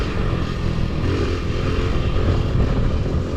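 A mini stunt bike with a semi-automatic gearbox runs steadily close by, its engine producing a continuous loud buzzing drone through the whole stretch with no talking over it.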